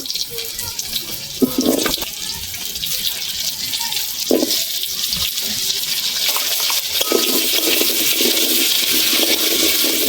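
Taro and potato fry in the oil left over from frying shrimp, making a continuous watery sizzle with occasional stirring clatters throughout, and no talk.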